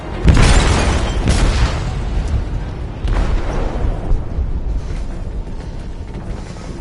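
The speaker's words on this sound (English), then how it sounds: "They detonated an explosive in the hold." A bomb explodes aboard a ship in Detroit: Become Human, a loud booming blast followed by rumbling debris and a second heavy impact, then a long roaring, crackling tail.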